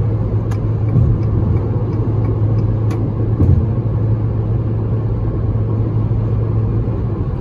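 A 2021 Jeep Renegade Longitude 1.8 Flex running on gasoline climbs a hill in fifth gear under light throttle, giving a steady, close, low engine drone and road rumble with no voices.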